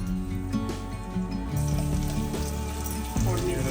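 Garlic sizzling in hot oil with asafoetida for a tempering, a soft frying crackle running under background music and voices in a kitchen.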